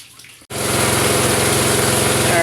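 A loud, steady motorized water pump drones and whirs continuously with rushing water as it fills a catfish tank, starting abruptly after a brief quiet moment.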